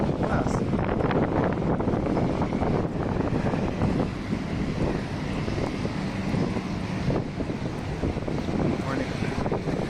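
Strong wind in Kuujjuaraapik, a northern Cree and Inuit village, buffets the microphone with a loud, constant, roaring rumble and gusting turbulence that barely lets up.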